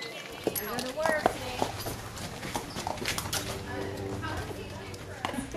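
Horses at a horse rescue walk with clip-clopping hooves, a run of close, sharp irregular knocks heard under a speaking voice.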